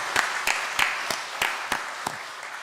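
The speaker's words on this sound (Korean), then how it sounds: "따뜻한 박수로 맞아주시기를 바랍니다" Churchgoers at a Korean Methodist Sunday service clap to welcome a new member. About seven sparse, evenly spaced claps ring out nearby, thinning and softening toward the end.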